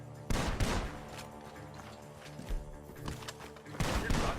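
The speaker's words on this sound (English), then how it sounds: "The gunshots are coming." Gunfire in Red Dead Redemption 2, several loud booming shots in quick bursts, with a sharp blast at the start and another cluster near the end, no talk.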